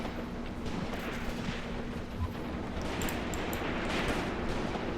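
Sustained battlefield gunfire and distant artillery rumble from the WWII tactical wargame Graviteam Tactics: Mius Front, a dense continuous wash of shots and blasts at steady level with no speech.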